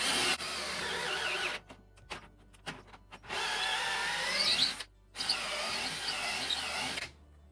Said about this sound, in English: and drill a hole through each end.